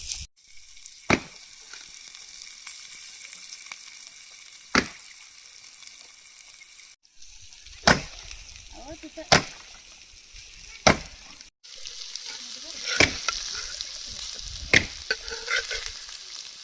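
Fish frying in only a little oil in a village kitchen, a low steady sizzle broken by sharp, loud clacks every few seconds as the pan is stirred and handled, with brief pauses in between.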